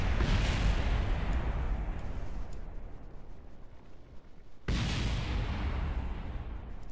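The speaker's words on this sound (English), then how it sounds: "Lots of explosions." Spacecraft parts blow apart in Kerbal Space Program, a loud roaring blast that fades over several seconds before a second sudden explosion cuts in, with no talk.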